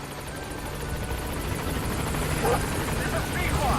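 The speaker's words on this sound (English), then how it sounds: "Come on, helicopter. Anytime now, that'd be good." In Metal Gear Solid V, a helicopter closes in on the landing zone, its steady rotor drone and engine whine filling the background under someone talking.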